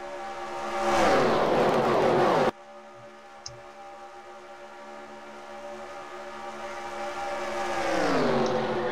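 NASCAR stock cars roar past on the track at Talladega, the engine drone swelling and fading as the pack sweeps by, then cutting off abruptly before another approaching rise.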